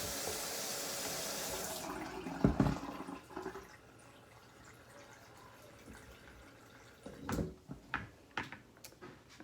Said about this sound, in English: And then I'm going to add just a little bit more water.